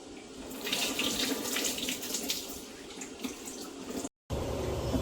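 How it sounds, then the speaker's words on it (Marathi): Running tap water pours steadily over khapli wheat grains as they are washed, a close, continuous splashing that cuts out for a moment near the end and then resumes. "असं 2-3 पाण्याने चांगलं धुवून घ्यायचं"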